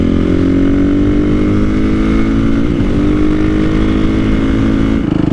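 A Honda CRF450R supermoto engine idles close by, a loud steady single-cylinder burble with a slight pitch wobble midway and a small dip near the end, no talk.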